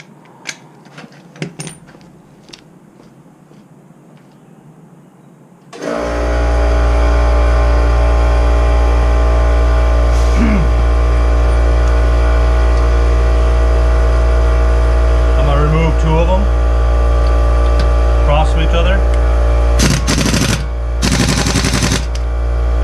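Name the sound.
air compressor running and filling with air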